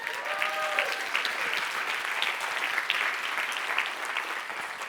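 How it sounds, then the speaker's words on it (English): A live audience at a motivational talk breaks into a steady round of applause, dense continuous clapping at even loudness throughout, with no talk over it. "give her a round of applause"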